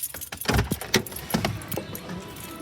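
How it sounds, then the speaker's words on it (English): Keys jangle close by as a car is switched off, with a few metallic clinks and rattles over a fading low engine hum. "I'll just turn the car off."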